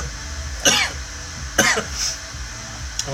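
Three short, sharp coughs spaced about a second apart, close and loud, with a faint tail after each and quiet room tone between them.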